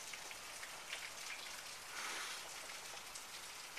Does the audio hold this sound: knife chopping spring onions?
no